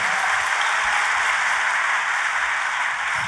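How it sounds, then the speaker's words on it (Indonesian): A church congregation bursts into enthusiastic applause, a loud, dense wash of many hands clapping without pause, close and sustained. "tepuk tangannya yang paling meriah."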